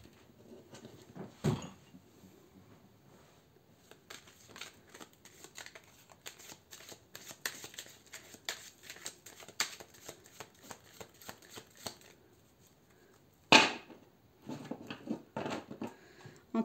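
Tarot cards shuffled for a reading, in close, crisp riffling bursts that come and go over a quiet background, with a sharper flurry near the end and no voices.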